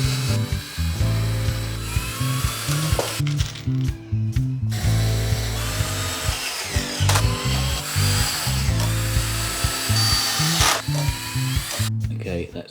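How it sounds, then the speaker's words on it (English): Screws being driven into a chunky industrial wooden table built from roof joists, a ratcheting, whirring drive repeating in bursts with brief pauses, close and fairly loud, with some speech-like sounds in the background. "Some screws"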